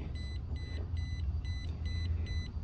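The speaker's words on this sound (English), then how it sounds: "this bms has a little beep tone you can hear it" A short electronic beep tone from a battery management system repeats in evenly spaced pulses, six in a row, over a steady low hum.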